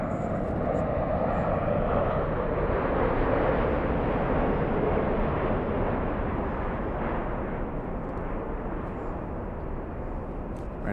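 A Southwest airliner takes off from runway 24 left at Los Angeles, a loud, steady jet engine roar that holds for the whole stretch and eases off only slightly toward the end.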